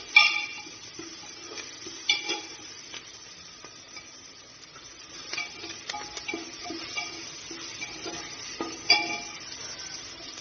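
Beef curry with salt is stirred in a pan, making soft intermittent scraping and clinking under a faint sizzle, with a few sharper utensil knocks spread through the stretch.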